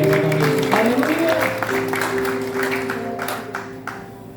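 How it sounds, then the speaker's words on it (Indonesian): A church congregation claps together, a moderate spread of hands ringing out over sustained organ or keyboard tones, with the clapping thinning toward the end. "Berikan tepuk tangan yang beri Haleluya"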